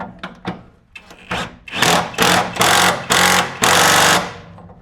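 A cordless 3/8-drive impact gun hammers a 14mm bolt tight on top of a car coil-over, starting with a few short stuttering bursts and then several longer loud rattling runs close up, no talk.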